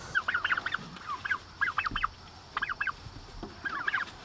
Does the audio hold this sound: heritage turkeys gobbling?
yes